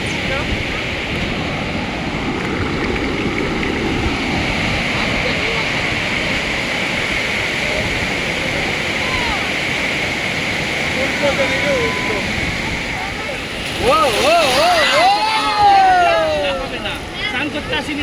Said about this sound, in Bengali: সমুদ্রের ঢেউ, গর্জন এবং হাওয়ায় সকলকে একদম রিফ্রেশ করে দিল।